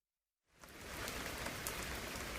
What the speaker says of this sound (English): Oh dear, it's raining again. Look at all that rain.